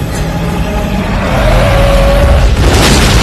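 A movie explosion in a monster scene: a loud, rumbling soundtrack swells and then breaks into a heavy, broadband boom near the end, with no speech.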